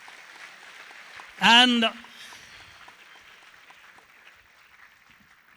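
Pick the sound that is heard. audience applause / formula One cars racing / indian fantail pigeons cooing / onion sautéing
audience applause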